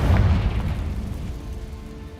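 A Confringo spell blast in Hogwarts Legacy lands as a deep, loud boom with a dull low rumble, then fades over about two seconds.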